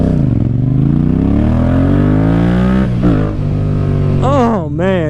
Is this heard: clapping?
no